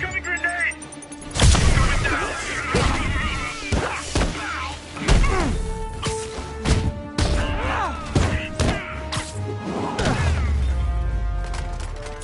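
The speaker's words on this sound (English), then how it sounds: "Eyes up! Incoming grenade!" Grenade blast in the Spider-Man PS4 video game, a heavy boom landing among thuds and impacts of combat, with game music and effects layered throughout.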